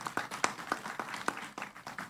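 Sparse clapping from a conference audience, a few hands beating an uneven rhythm of sharp claps, fairly quiet and brief with no voices.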